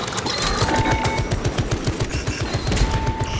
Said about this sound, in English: Servo gun strike in progress.